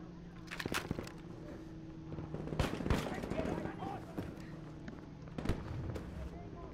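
Hip-fire gunshots from a one-handed weapon in a video game: a handful of sharp, scattered cracks, with a close pair near the start and louder pairs in the middle and near the end, over a steady low hum and faint voice.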